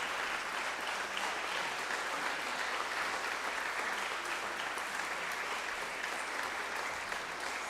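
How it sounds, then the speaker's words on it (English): Congregation at First Unitarian Church of Providence claps steadily in welcome for new members, a dense, even wash of applause sustained throughout with no speech over it. "Can we have a round of welcoming applause for our new members?"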